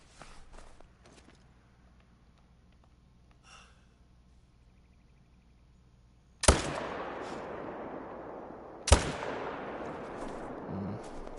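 Two loud rifle shots from a hunting rifle in theHunter: Call of the Wild ring out a couple of seconds apart, each a sharp crack with a long, fading echo across open terrain after a quiet stretch of faint ambient sound.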